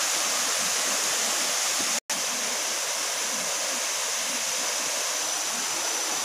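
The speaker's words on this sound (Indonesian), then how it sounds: "Sangat banyak air terjun atau ongkongnya turun-turun terus." A jungle river with many waterfalls on the Buan River in Mahakam Ulu, Indonesia, roars as a loud, steady, dense rush of water, broken only by a momentary dropout.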